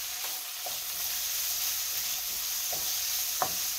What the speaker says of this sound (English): Okay, now I'm going to put the sun-dried tomatoes in.